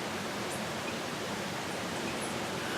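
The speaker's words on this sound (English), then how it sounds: "Even as I listen to the river next to me here" A river flowing close by, a steady broadband rush of water that holds an even level throughout, with no voices.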